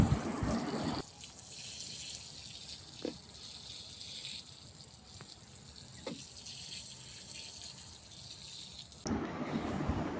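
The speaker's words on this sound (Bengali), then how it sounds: "জল দিয়ে ভিজিয়ে নেওয়ার পর গাছের ডালগুলো একটা একটা করে আমি" Water poured from a tap or container to wet chrysanthemum cuttings, a steady splashing flow running for several seconds between louder bursts at the start and end, close and alone with no talk.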